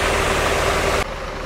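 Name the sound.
loud air conditioning on sleeper bus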